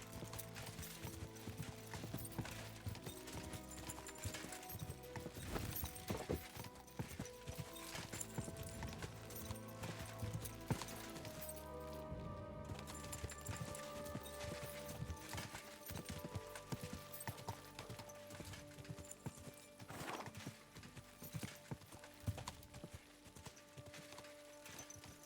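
Steady clip-clop of horse hooves at a brisk pace, continuous and fairly close, with occasional creaks and mechanical clicks mixed in, in the video game Kingdom Come: Deliverance II.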